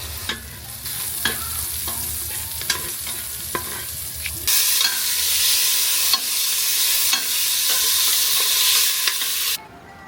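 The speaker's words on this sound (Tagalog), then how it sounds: "Prito-prito muna bago gisa-gisa para mas masarap." Steady oil sizzle from a hot pan, with repeated scrapes and clinks of a spoon stirring food, then a louder, brighter burst of frying before it cuts off.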